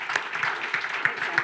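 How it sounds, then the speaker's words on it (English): Brief burst of audience applause for a conference panel, scattered hand claps from a moderate crowd with a few sharper claps standing out. "Please give them a round of applause."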